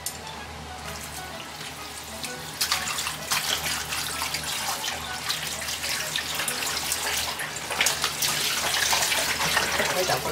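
Tap water running steadily while something is washed in a home kitchen, a continuous splashing hiss that grows slightly louder toward the end, with people talking quietly over it.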